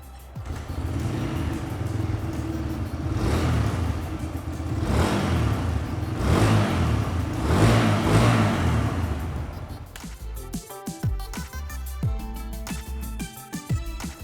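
A Bajaj Freedom 125 CNG motorcycle's engine runs close by, a peppy mid-pitched note rising and falling through several revs before settling into a steady idle, loud and alone.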